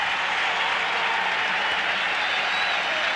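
Baseball stadium crowd at an Astros home game cheering and applauding loudly, a dense, steady roar of clapping and shouting that fills the whole stretch without a break.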